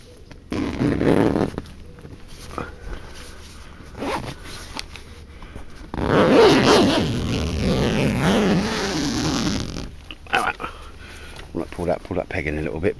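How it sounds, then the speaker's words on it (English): Zipper on an enclosed tent shelter pulled in long rasping strokes, with a sustained loud zip in the middle, interspersed with rustling fabric and someone talking nearby. "Proper zip it up"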